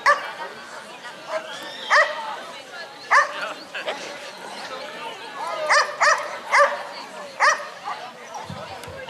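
A dog in a training session barks and whimpers in short repeated yips and whines, spaced irregularly across the scene, while a person talks throughout in the background.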